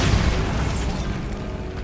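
The Bombarda explosion spell in Hogwarts Legacy goes off as a single heavy boom with a deep rumble. The blast is loud at the start and fades over about two seconds, with no talking.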